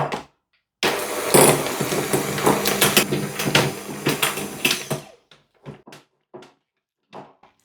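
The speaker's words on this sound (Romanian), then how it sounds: "Aici am untul pe care acum îl voi bate spumă" An electric mixer whips room-temperature butter into a foam for a Tosca cake, a dense continuous whirring with clattering bursts for about four seconds, then stopping to a few short knocks and scrapes.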